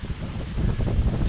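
Wind buffets the microphone outdoors at a farm campsite beside a camper, a loud, low rumbling gust that swells toward the end.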